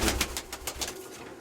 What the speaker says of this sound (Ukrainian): Це, оце, це його голуби.